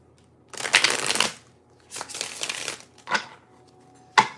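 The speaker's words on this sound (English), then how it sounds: "One more shuffle." A deck of tarot cards is shuffled in four quick riffling bursts, close and crisp, separated by short pauses.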